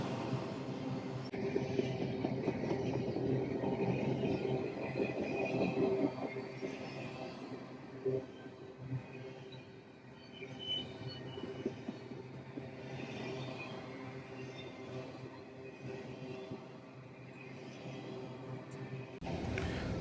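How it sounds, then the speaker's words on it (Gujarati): A long train rolls past steadily near Pittsburgh, a continuous rumble of wheels and rail noise with faint squeals, sustained at close range without pause. "હું 5-7 મિનિટથી રાહ જોઈ રહ્યો છું કે આ ટ્રેન અહીંથી પૂરેપૂરી પસાર થઈ જાય"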